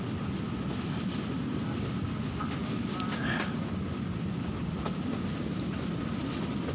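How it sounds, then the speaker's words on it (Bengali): A moving passenger train runs through open countryside and villages, heard as a steady, loud, continuous rumble from on board with faint rhythmic rattling throughout. "গ্রামের ভিতর দিয়ে ট্রেন ছুটে চলতে শুরু করলো"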